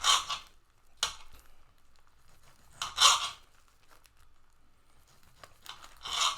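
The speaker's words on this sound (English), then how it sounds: "Y'all like the sound of that chopping board, by the way?" A knife slices tomatoes on a chopping board, sawing through them in a few sharp, crisp cuts and taps spaced a second or two apart, close up, with quiet gaps and no talk.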